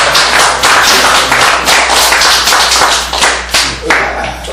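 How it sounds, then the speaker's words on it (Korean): An audience claps steadily together at a gathering, loud and close, a dense patter of many hands with a few sharper slaps, a low steady hum underneath and no talk. "박수!"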